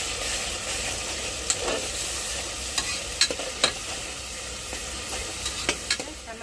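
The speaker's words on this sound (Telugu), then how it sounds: "ఈ మసాలా అంతా బాగా పచ్చివాసన పోయేదాకా వేగనిచ్చి మళ్ళీ చికెన్ అయితే వేసుకున్నాము." Chicken frying in a spiced tomato masala for a homestyle curry, a steady crackling sizzle with intermittent scraping and clinks of a stirring spoon against the pan, close and continuous with no talk.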